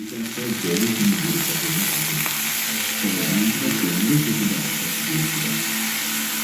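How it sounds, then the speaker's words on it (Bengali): Red Malabar spinach seeds fry in a pan, a continuous close sizzle with soft crackles and occasional stirring, steady and fairly loud throughout with no voices. "আজকে করলাম পুঁই দানাটা ভাজা"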